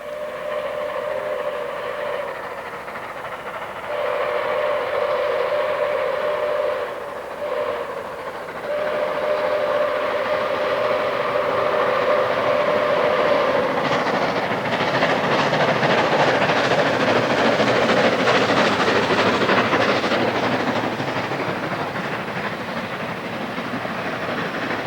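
A train engine sounds a deep, mellow steamboat-style whistle in long sustained blasts with brief breaks, then the loud rumble and clatter of the rolling train takes over, close and continuous.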